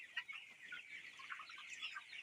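Chickens cluck continuously on a poultry farm, a busy layered flock chatter at moderate distance with no talking.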